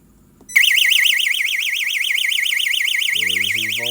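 An Orisec intruder alarm panel sounds with a loud, continuous warbling siren that starts abruptly and holds steady, while a voice begins talking underneath toward the end.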